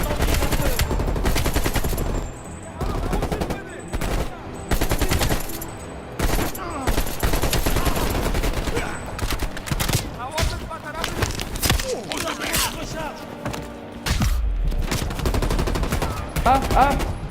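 Dense, continuous gunfire and explosions from the video game Call of Duty Black Ops Cold War, with bursts of automatic fire and heavy thumps filling the whole stretch, loud and busy, mixed with game voices.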